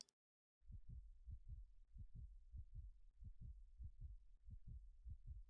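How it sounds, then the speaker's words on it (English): Steady, throbbing heartbeat thumps repeat about every half second in the Korean idol game Buried Stars, low and muffled, starting after a brief silence and continuing alone with no voices. "Is that my heartbeat or his?"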